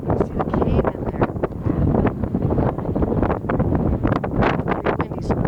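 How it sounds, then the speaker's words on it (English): Gusty wind at Yellowstone Lake buffets the microphone in a steady, loud, broadband roar with rippling water beneath, continuous for the whole stretch with no voices. "Pretty windy, so the water's rippling a little bit."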